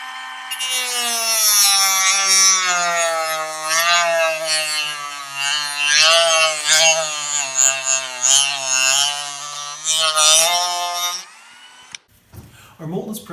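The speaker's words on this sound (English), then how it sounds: "I like to use a Dremel tool with a cutoff wheel, and we're just going to use that to go all the way around the edge" A Dremel rotary tool with a cutoff wheel grinds around the edge of a carbon fiber part in a high, steady whine that runs for about eleven seconds with slight pitch wobble, then cuts off abruptly, leaving a brief quiet tail.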